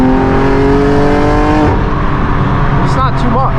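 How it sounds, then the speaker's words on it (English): Straight-piped BMW M4 G82 with downpipes, open-valve titanium exhaust in Sport Plus, rumbling loud and close with a steady rising harmonic drone that drops off, then brief revs flare over ongoing talk. "We recently installed downpipes and a titanium exhaust in this car, so it is straight pipe."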